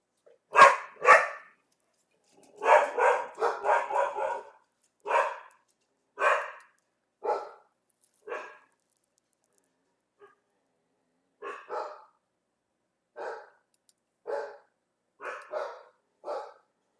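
Dogs in the video game Skyrim bark in short separated bursts and clusters, moderately near, with silent gaps between volleys.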